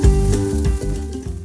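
Chopped medium onion sizzling in about a quarter cup of hot oil in a kadai, a steady close frying crackle with light stirring, no talk.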